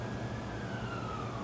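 A distant ambulance siren wails as a faint, steady tone over a rainy background, with no talk over it.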